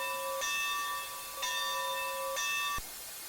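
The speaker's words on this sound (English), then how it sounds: "It's got a bell." A locomotive bell on a steam engine in the Train Sim Classic Rio Grande Southern game rings three times at an even pace, each strike bright and ringing with a sustained metallic tone, heard alone and close.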